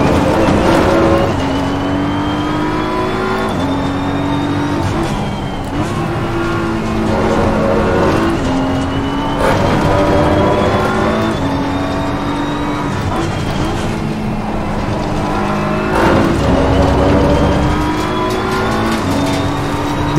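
BMW M4 GT3 race car engine at Monza in Assetto Corsa Competizione, loud and continuous, with rising revs cut by repeated gear shifts and falling pitch under braking, alone without voices.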